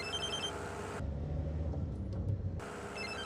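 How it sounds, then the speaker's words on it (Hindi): A telephone rings in electronic trills, once at the start and again at the end, with a low rumble of traffic in between. "कॉल आ रहा है।"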